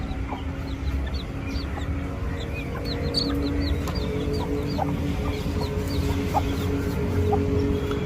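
Hens cluck softly and repeatedly in a home yard, with short, scattered calls over a steady low background hum.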